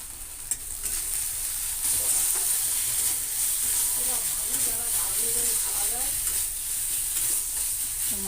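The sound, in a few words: masala spices being sautéed and stirred in a pan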